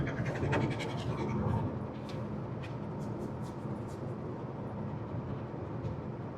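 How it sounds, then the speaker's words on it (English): A dog pants steadily and rhythmically at close range inside a vehicle on a road trip, with road and engine rumble running underneath throughout. "You're eventually gonna go dry mouth with that panting."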